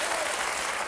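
Studio audience applause on a French TV variety show, a steady dense wash of clapping filling the whole brief moment without a break.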